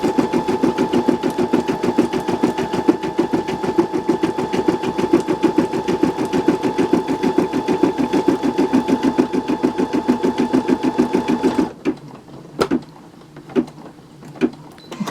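An embroidery machine stitches a bean stitch through fabric for an in-the-hoop Christmas ornament, a fast, even mechanical chatter of needle strokes for about twelve seconds, then it stops and a few sparse clicks and taps follow.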